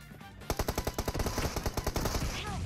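An M4 rifle fires in PUBG Mobile, a close, loud automatic burst of about fifteen evenly spaced sharp cracks lasting around a second and a half.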